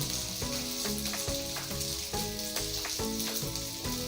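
Thalipeeth flatbread roasting on a pan gives a continuous crackling sizzle with periodic soft scrapes, set against a steady tonal background hum.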